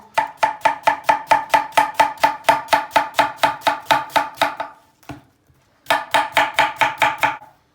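Rapid, steady knife chops through cabbage on a cutting board, a long even run of strokes, a brief pause, then another quick burst of chopping.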